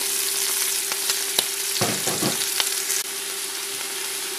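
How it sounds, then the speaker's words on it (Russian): Half-ring sliced onion sizzling and frying in a pan, a steady close crackle with a few stirring scrapes and clinks partway through. "Теперь обжарим с обратной стороны и добавим нарезанный полукольцами лук."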